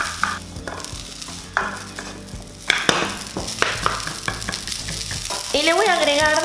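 Fried rice made with day-old rice is stir-fried in a pan for Chinese chao fan, a steady sizzle broken by sharp scraping and clanking of a spatula as the grains are broken apart.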